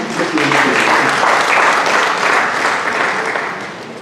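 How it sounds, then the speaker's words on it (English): Audience clapping at an innovation fair, a full, even burst of many hands that swells quickly, holds for about three seconds and then tapers off. "Let's clap for them"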